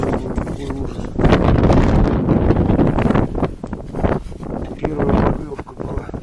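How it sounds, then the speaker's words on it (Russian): Strong wind blasting across open ice in a snowstorm while ice fishing for zander, roaring gusts buffeting close to the microphone in surges, loud and harsh, with occasional voice sounds underneath. "ну почему сегодня такой ветер сумасшедший"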